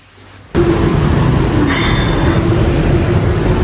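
A metro train pulls out of the station with a sudden loud roar that stays heavy and steady, a brief metallic wheel squeal rising partway through the rumble.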